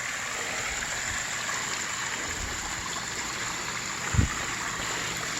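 A constant gentle rush of trickling water, like a small waterfall, steady throughout with one brief low bump near the end.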